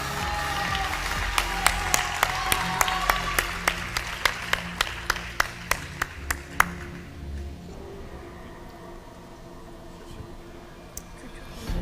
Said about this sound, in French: Vous pouvez applaudir Belle de la Réunion.